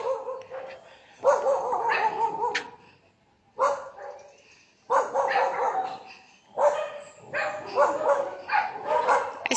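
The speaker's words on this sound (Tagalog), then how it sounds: "Maraming aso dito sa Casamira." Several dogs bark in repeated bursts along a subdivision street during an early morning walk in Minglanilla, Cebu, some barks near and loud, others yipping, with brief pauses between volleys.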